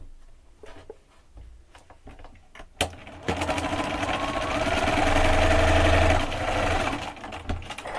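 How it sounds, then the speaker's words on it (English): A sewing machine stitches quilt block pieces along an edge in a fast, steady whirring run that starts after a quiet pause and a sharp click, then slows to a stop. "And I'm going to just sew them really quick along that edge."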